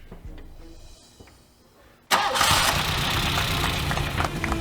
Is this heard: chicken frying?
no